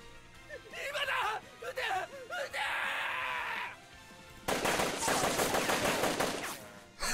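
Video game gunfire in Grisaia Phantom Trigger, a rapid burst of automatic shots erupting late after stretches of voiced game dialogue and vocal sounds.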